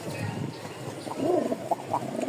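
A pair of high-flying Giribaz pigeons coo softly at close range, a few low burbling calls rising over a steady background hum, with no talk.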